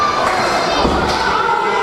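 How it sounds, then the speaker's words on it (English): A wrestling crowd at the UWC Now or Never main event cheers and shouts loudly in a dense, continuous roar, with a couple of dull thuds underneath. "The crowd loves it."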